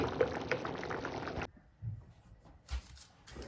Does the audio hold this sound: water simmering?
yes